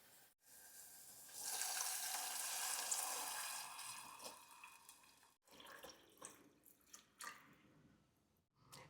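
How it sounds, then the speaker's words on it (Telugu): Water pours steadily from a tap or jug into a pot of gram-flour batter for a Telugu poori curry, a loud continuous splash for about four seconds that then breaks into fainter irregular trickles and drips. "so two glasses of water అయితే యాడ్ చేసుకుంటాను"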